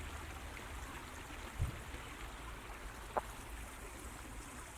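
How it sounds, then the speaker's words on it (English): A creek running over stones outdoors, a steady broadband rushing and trickling flow at moderate distance, with a couple of faint brief knocks. "you can listen to the water running through the stones"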